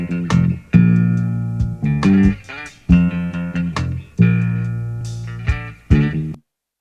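A sample plays as loud, clean music: sustained chords and tones broken into repeated phrases with sharp attacks, then it cuts off to silence.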